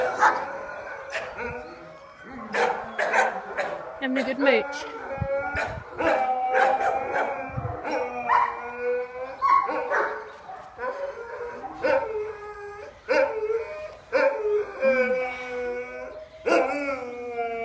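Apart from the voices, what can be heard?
dogs barking and howling in kennels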